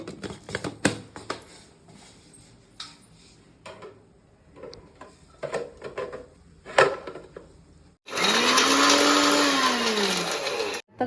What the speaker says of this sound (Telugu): ధనియాలు చెక్క ఇవి ఇవి మనం మిక్సీకి పట్టేసుకున్నాం